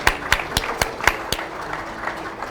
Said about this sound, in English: Please join me in a huge round of applause for our silver sponsors, Leminar Global and RIM.